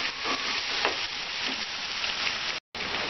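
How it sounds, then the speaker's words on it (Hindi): Pumpkin (kashiphal) pieces fry in hot oil in a pan, giving a dense, even, close-up crackling sizzle with occasional louder pops, cut briefly by a short silent gap near the end. "तेल में डालकर 2 से 3 मिनट अच्छे से फ्राई कर लिया है"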